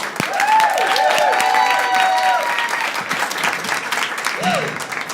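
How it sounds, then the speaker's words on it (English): Applause and cheering from a crowd at an evening book launch event, sustained clapping with several voices calling out whoops over it, easing slightly toward the end. "Please put your hands together."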